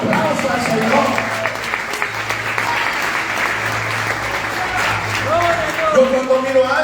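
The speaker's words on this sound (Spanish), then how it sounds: "Vamos, si usted está vivo, denle un aplauso al Señor." A church congregation claps steadily and enthusiastically throughout during a sermon, with a voice speaking over the applause near the start and end.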